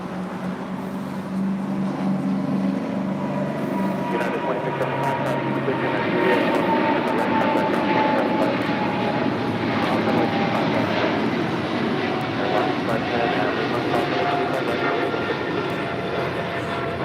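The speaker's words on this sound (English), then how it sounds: "Got an Air Tahiti Nui Dreamliner now pushing back." An Air Tahiti Nui Boeing 787 Dreamliner pushing back at LAX produces a steady, moderately loud jet-engine whine and rumble, with faint voices in the background.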